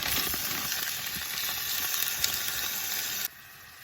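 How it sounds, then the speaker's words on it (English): Chicken tenderloins fry in a hot skillet with a steady, dense sizzling hiss that cuts off abruptly near the end. "Gonna add to the skillet some chicken tenderloins"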